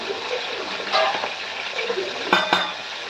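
Shrimp seasoned with salt and turmeric fry in a pan with a steady, close sizzle, broken by a few clinks and stirring scrapes, and a voice faintly present underneath.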